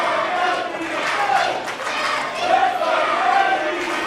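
Crowd cheering and shouting at a live independent wrestling show in a Knights of Columbus hall, a steady, lively roar throughout with a commentator talking over it.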